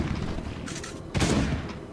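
Gunfire in the survival game Last Day on Earth: a short burst of close shots around the midpoint, loud and sharp, standing out against a low game background.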